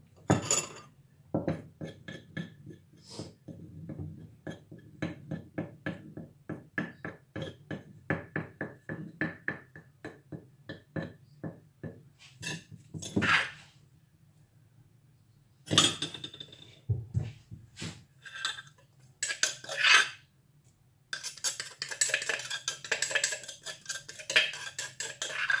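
A metal spoon clinks and scrapes again and again against a mortar as chili paste is scooped out, a long run of small close knocks and clatters of dishes with brief quiet gaps.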